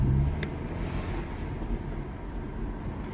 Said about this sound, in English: we're gonna go for a quick drive at the end of the road and come back just to make sure